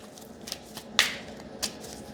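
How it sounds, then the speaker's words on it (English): A pocket-size Light Seer's Tarot deck is shuffled by hand at close range, giving a few sharp, separate card riffles and slaps spread over a couple of seconds in a quiet room. "Okay, I'm being a messy shuffle."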